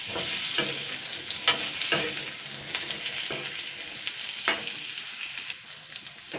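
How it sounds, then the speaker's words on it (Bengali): Chopped papaya being stirred and lightly fried in a pan, with a soft, continuous sizzle and intermittent scraping of the spatula against the pan, fairly quiet and close, with no voices. "পেঁপেটাকে দুই মিনিট মতন নাড়াচাড়া করে নেবো দুই তিন মিনিট হালকা ফ্রাই করে নেবো"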